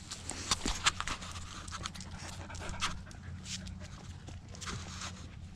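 A corgi pants rapidly and steadily up close, quick rhythmic breaths with a few louder huffs, while someone talks softly to it.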